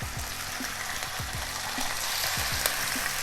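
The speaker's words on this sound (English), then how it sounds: "Sizzling bacon, no better sound." Bacon sizzling in olive oil in a frying pan, a steady bright crackle and hiss with occasional soft clinks of a utensil on the pan, close up and without speech.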